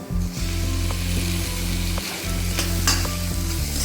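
Tomatoes with onion and green chili fry in a pan for a pumpkin sabzi, a loud steady sizzle close up, broken by regular scraping and stirring clicks of a spatula.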